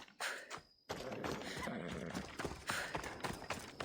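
A horse's hooves clip-clop at a steady trotting pace in the video game Assassin's Creed Odyssey, close and continuous after a brief gap near the start, with no talking over it.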